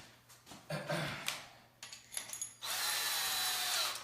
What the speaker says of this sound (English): So I'm switching drill bits.